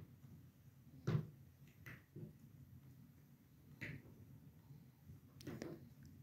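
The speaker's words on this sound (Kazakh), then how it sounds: "қақпағын жауып қоямыз." A lid set on a pot of simmering Uyghur momo filling, heard as a few faint, sharp clinks and knocks spaced a second or two apart in a quiet kitchen.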